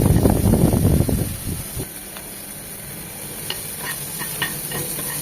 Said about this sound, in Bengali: খুব ভালোভাবে রসুন কুচি, পেঁয়াজ কুচিটা, কাঁচামরিচ কুচিটা ভেজে নিতে হবে।